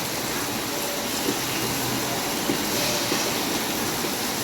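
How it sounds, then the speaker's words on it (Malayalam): Steady, dense rain falls outdoors with a constant loud hiss that never lets up, and no voices can be heard. "ഇതാ മക്കളെ മഴ പെയ്യുന്നു"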